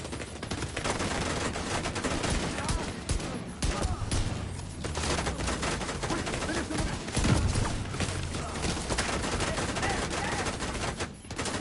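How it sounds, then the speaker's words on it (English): Sustained automatic gunfire rattles through a firefight in The Division 2, dense and close, with rapid shots layered almost without pause and a voice talking over the din. "Where am I getting shot from?"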